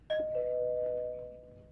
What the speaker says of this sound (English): That's the bell. I better see if someone's ringing it.